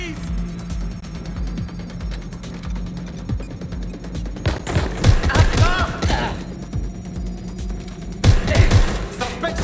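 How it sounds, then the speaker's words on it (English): Shootout in the Watch Dogs: Legion video game, with bursts of gunfire clustered in two loud volleys amid a busy background hum, and voices shouting between shots. "Shots fired! I'm taking fire!"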